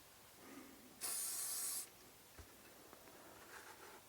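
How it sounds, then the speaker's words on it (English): Preservative solvent is sprayed onto a cleaning cloth while cleaning a centrefire rifle bolt: one short, sharp aerosol hiss lasting under a second in a quiet room, followed by faint handling sounds. "will spray some preservative solvent onto the cloth"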